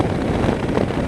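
Wind buffeting a rider on a 2016 Honda Africa Twin motorcycle, a continuous loud low rumbling roar against the helmet with no speech.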